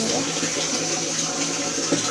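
A bathroom shower runs steadily, a loud, even hiss of spraying water that fills the space with no talk.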